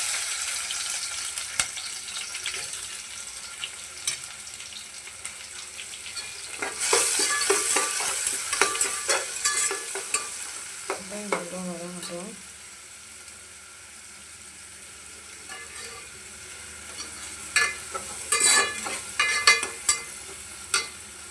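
Food sautés and sizzles in a hot pan while a utensil stirs it in scraping bursts, with quieter stretches and a brief watery interlude in between.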